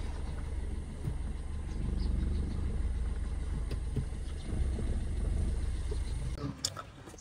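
A car engine runs steadily with a low rumble close by, faint ticks and clicks scattered through, ending with a few sharper knocks as the car is taken out of the driveway.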